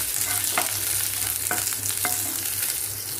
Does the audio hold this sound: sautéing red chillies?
yes